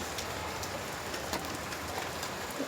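Heavy rain falls in a steady, dense patter on surfaces, an even wash of close drumming drops with scattered louder splashes, and no one speaks.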